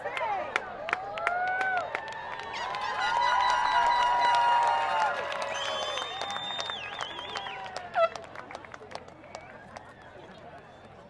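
A crowd applauds at a San Carlos High School graduation ceremony, sustained clapping and cheering rising in the middle and tapering off, with talk and a voice over the room.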